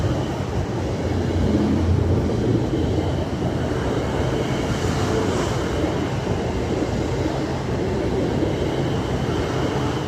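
British Rail Class 450 electric unit 450037, bound from London Waterloo to Southampton Central, rolls past close by with a loud, steady rumble of wheels and motors that holds evenly throughout.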